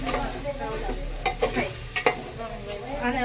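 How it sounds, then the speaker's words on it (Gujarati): A spoon stirs turmeric into a spice mixture for a jackfruit (funas) dish, giving close, quick scraping strokes over a light steady sizzle. "2 ચમચી હળદર ઉમેરીને પછી આપણે હલાવી નાખવાનું"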